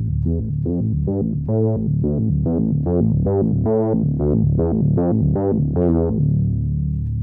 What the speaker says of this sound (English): So I use this synthesizers